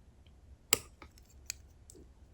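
Scissors snipping the tail of a twisted pine needle coil, one sharp close snip followed by a few faint clicks and a second lighter cut in a quiet room.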